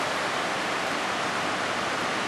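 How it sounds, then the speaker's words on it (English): Steady broadband hiss of rain falling outside during a heavy overnight downpour in North Queensland, even and continuous with no voices. "you can hear the rain outside now"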